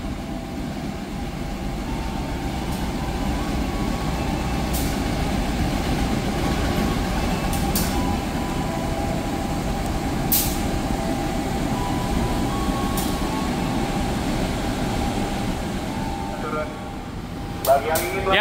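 Tawang Jaya passenger train at a busy Jakarta station, a steady low rumble and hum of rolling stock and engine with occasional sharp clicks and squeals, people talking faintly in the background.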